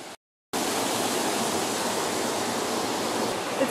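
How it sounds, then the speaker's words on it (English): Loud, steady rushing of river water below the Devil's Bridge in Cividale fills the air after a brief moment of silence, a constant broadband roar with no voices. "It's kind of noisy here because of the water"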